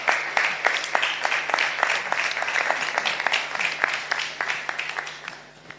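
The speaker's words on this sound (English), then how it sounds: "Let's give the pastor a round of applause as he makes his way." Audience applause at a book launch, greeting a pastor as he walks up, with steady clapping from many hands at moderate distance, fading slightly toward the end.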